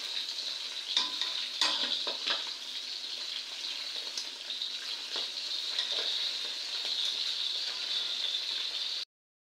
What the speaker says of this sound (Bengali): মাছগুলা ভেজে নেওয়া হয়ে গেছে, এখন আমি উঠিয়ে নেব